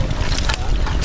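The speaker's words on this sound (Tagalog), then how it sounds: "Ang makina ni Kuya Sani." A boat's engine runs steadily during a fishing trip on a creek, a loud, continuous low rumble mixed with wind and water noise, with no pauses.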